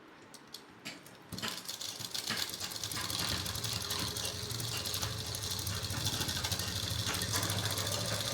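A sewing machine runs a double line of stitches along an underwear seam: a few light clicks, then a steady close mechanical whirring and ticking that continues to the end without talk.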